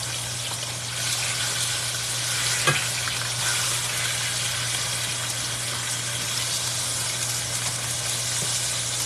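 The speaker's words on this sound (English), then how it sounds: "these are on a hot sear" Ribeye steaks sear on a hot, large cast iron skillet, giving a loud, continuous close-up sizzle with a steady hiss and low hum, one brief sharper pop near the middle, and no voices.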